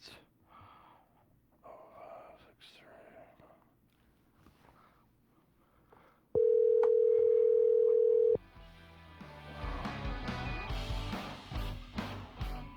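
A telephone dial tone sounds while a number is being redialed, a loud steady two-second hum following quiet breathing and handling noises, then giving way to louder mixed sound.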